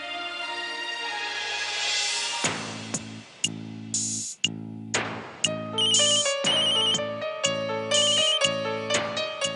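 A phone ringtone plays a repeating electronic melody, loud and close, with short pauses between phrases and a steady synthesized beat underneath.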